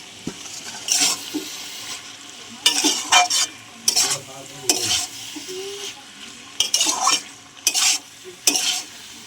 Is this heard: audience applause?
no